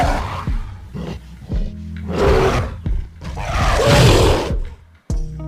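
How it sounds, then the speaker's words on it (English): Gorilla calls, several deep, roaring grunts and bellows in bursts with short gaps, loud and close, with no talk over them. "Gorilla."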